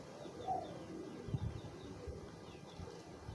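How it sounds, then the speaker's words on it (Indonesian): Four pairs of pigeons coo softly in a loft, low rounded calls repeating under faint rustling and a brief flap, quiet and close. "keempat pasang merpati ini pun sama, sedang saya giringkan juga nih"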